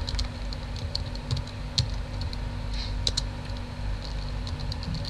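Computer keyboard keys tapped in short irregular bursts, quiet clicks over a low steady hum in a room, with no voices.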